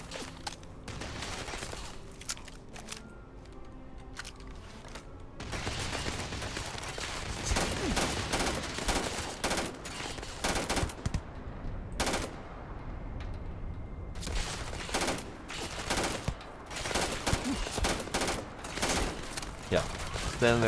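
Enemy gunfire in Starfield, with bursts of rapid shots and heavier single blasts repeating over about twenty seconds, loud and continuous, while a person talks over parts of it.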